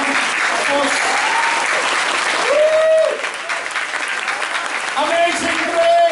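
A church congregation applauds during a thanksgiving service, dense clapping mixed with voices and sung or held tones rising over it.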